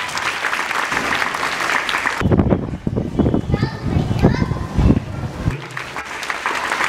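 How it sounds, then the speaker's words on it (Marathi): Audience at a school prize ceremony applauds students for district-level competition success, a steady mass of hand claps that rises to its loudest partway through, with children's voices and talk mixed in. "सर्वांनी जोरात टाळ्या वाजवून राहिलीचं कौतुक करायचं आहे"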